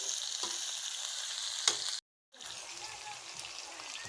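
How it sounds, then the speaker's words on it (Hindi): Tinda and chicken pieces frying in a pan, giving a steady, moderately quiet sizzle that runs throughout with a short break of silence near the middle. "इसको भी हम अच्छे तरीके से फ्राई करेंगे, भून लेंगे।"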